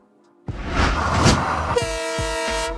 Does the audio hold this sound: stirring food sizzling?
no